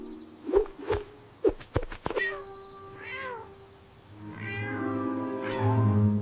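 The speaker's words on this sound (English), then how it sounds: "A poor little orange cat is stuck high up in the big oak tree and cannot get down." A small orange cat stuck high in a big oak tree meows several times in short, close cries, followed by a longer drawn-out wail, in a 3D animated cartoon with soft music underneath.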